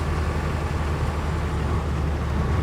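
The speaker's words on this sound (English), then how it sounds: "The 200 TDI is a noisy engine, and I've suppressed it just enough." A 200 TDI diesel engine runs at a steady idle, a dense, even low rumble and drone that holds without change and with no talk over it.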